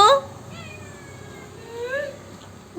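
A house cat meows in a few drawn-out, rising and falling calls, close and clear, with a brief gap of quiet between them.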